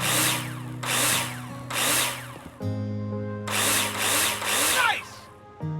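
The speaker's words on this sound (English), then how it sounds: "Take your drill out and screw them in." A power drill drives screws into plasterboard in the video game Builder Simulator: several loud whirring bursts rise and fall in a steady rhythm, each ending with a strained grinding as the screw seats.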